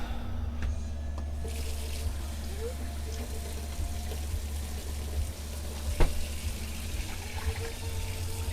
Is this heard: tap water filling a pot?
yes